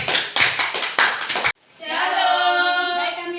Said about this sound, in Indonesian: berikan aplaus bagi